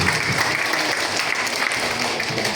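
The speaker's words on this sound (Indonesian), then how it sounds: "Tepuk tangan untuk para peserta." A crowd at an opening event applauds the participants with dense, steady clapping that fills the whole moment at an even level, fairly close and loud.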